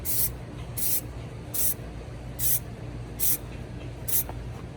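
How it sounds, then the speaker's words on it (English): Six short hissing test sprays of an aerosol spray paint can for a NASCAR Next Gen scale model, evenly spaced about a second apart, close by with a low background hum between sprays. "A couple of test sprays, there we go"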